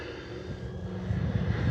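An FMS P-47 Thunderbolt RC model warplane, 1500mm electric on 6S power, flies in gusty wind with a steady motor drone and low wind buffeting that grows slightly louder toward the end, no voices present.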